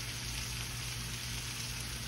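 Breakfast food sizzling in a single skillet for a country breakfast, a steady dense crackle and hiss that holds evenly throughout at moderate level with no voices.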